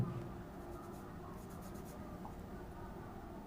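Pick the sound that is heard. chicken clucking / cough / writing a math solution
writing a math solution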